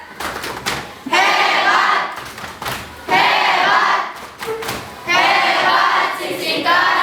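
A class of schoolchildren performs a rhythmic clap chant led by the class captain, bursts of loud group chanting separated by clusters of claps and thumps, repeated three times.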